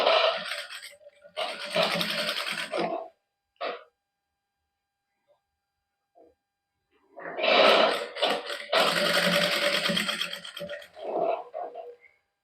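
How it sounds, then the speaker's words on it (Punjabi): A sewing machine runs in two long bursts while stitching net lace onto the hem of a garment, with a short pause between them and a few soft clicks in the gap. "ਹੁਣ ਆਪਾਂ ਐਸ ਲਾਈਨ ਦੇ ਉੱਪਰ ਸਲਾਈ ਲਾਵਾਂਗੇ"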